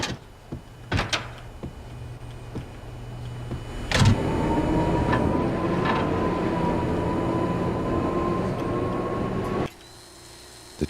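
A train powering up inside the Max Payne video game: a sharp clunk, then a steady electrical hum with a rising whine that holds for several seconds before cutting off abruptly, no voices.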